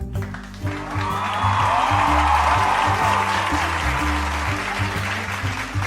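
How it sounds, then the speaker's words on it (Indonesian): A crowd applauds contest finalists at a king-and-queen pageant show, with sustained, even clapping underneath a loud musical backing that plays throughout. "Berikan tepuk tangan yang meriah."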